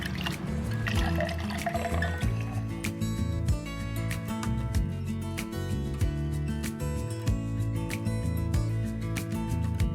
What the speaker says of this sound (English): I'm gonna drain the pineapple juice and I'm gonna save it